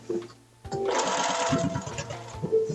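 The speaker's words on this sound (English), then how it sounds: "For most of this, I'm going to sew it at 3/8" A domestic sewing machine runs steadily for a couple of seconds, stitching a 3/8 seam on a wrap dress, with a brief lead-in of quiet handling and low background talk.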